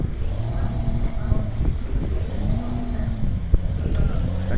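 A Peterbilt truck's engine roars loudly and steadily in Euro Truck Simulator 2, a low rumbling drone that rises and falls with the throttle, with a sharp knock near the end.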